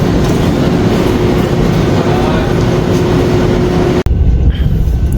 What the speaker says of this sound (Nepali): र ट्रेन पनि पुगिसक्यो